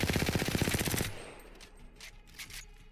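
CAR SMG hip fire in Apex Legends: a rapid, loud burst of automatic gunfire with tightly spaced shots for about a second, then quieter game ambience with a few faint distant pops.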